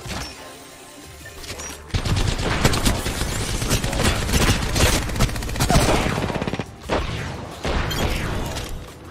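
Rapid gunfire in the shooter game Apex Legends, starting after a short quiet lead-in as dense bursts of automatic fire with short gaps. The shots are loud and close and continue to the end without talk.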